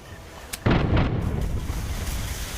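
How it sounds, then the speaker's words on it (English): Front cannons of a pirate ship fire in a pirate video game, a single sharp crack followed by a heavy rumbling boom that lingers and rolls on for a couple of seconds. "We can shoot this guy with our front cannons."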